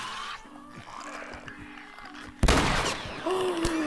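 A gunshot bursts out in The Last of Us video game, one loud sharp crack followed by a ringing tail, against quiet ambience and a low hum.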